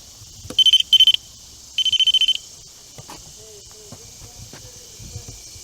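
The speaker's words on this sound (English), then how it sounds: "going to have this REM pod here that my dad made. I'm going to set it down here. It's a louder one" A homemade REM pod ghost-hunting device set down outdoors at the Cedarville Adena Mound gives three short bursts of rapid high electronic beeping, loud and close, then quiet outdoor background.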